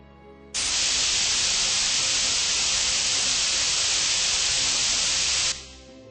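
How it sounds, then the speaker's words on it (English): Loud steady spray hiss from a cleaning spray effect inside an amusement ride chamber, beginning abruptly, holding constant for about five seconds, then cutting off. "we'll have to spray you down so that no outdoor bacteria can make its way in"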